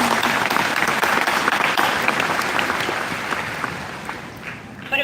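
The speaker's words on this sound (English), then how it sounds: "I'd like to take this moment to also give them a round of applause." Graduation audience at a university commencement breaks into loud, sustained applause, broad crowd clapping that holds steady before thinning slightly near the end.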